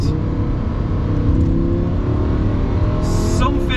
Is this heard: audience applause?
no